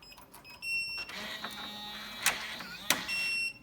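A $35 Defiant Castle electronic keypad deadbolt gives a few electronic tones, then a steady motorized whir as it unlocks, with two sharp clicks close by.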